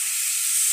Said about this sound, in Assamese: এতিয়া আকৌ 5 মিনিট ভাজিম।